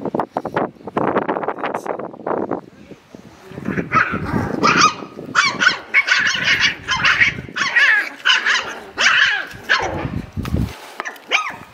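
Small puppies scuffle and fight, with a continuous jumble of snarls, yips and sharp barks lasting several seconds, loud and close.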